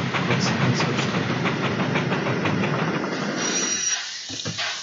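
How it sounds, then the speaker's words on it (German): Train running on rails in the Transport Fever 2 video game, a dense steady rolling rumble with faint clickety-clack that cuts off near the end, leaving a few quieter clicks. "Hier fährt der Zug."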